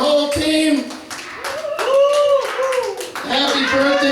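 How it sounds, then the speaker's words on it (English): A live audience gives a round of applause for a performer and her team, with dense clapping mixed with loud voices calling out. "A round of applause, Jenny Castle, her whole team."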